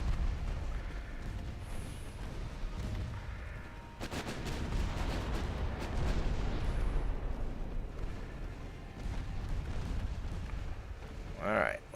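Naval guns in Ultimate Admiral Dreadnoughts fire at British ships, heard as dull distant booms and rumbling salvos over steady battle ambience, with a voice talking throughout.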